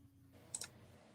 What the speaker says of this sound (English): I hear you clicking a mouse.